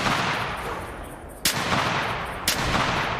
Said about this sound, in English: First shot just missed, but then we got him the third shot, so that's okay.